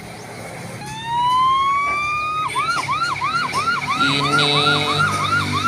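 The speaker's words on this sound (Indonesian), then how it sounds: "selanjutnya adalah mobil ambulans." A toy miniature ambulance plays its electronic siren: a rising wail, then a fast repeating yelp with warbling tones, loud and close, while a voice briefly speaks over it.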